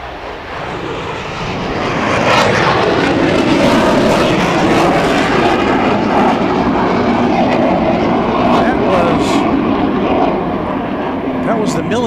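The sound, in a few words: military jet taking off at Dallas Love Field airport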